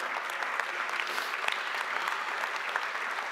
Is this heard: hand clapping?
yes